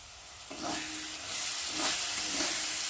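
Maggi noodles sizzle and hiss steadily in a hot pan as soy sauce goes in, with soft stirring scrapes rising over the constant frying noise.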